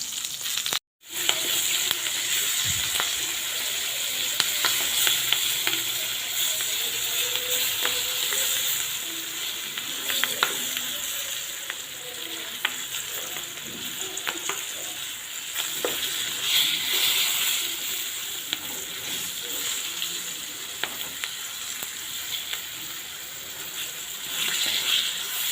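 Green chillies fried with cumin in a pan, North Karnataka style, give a steady, dense sizzle with a soft crackle throughout, interrupted only by a momentary break near the start. No voices are heard.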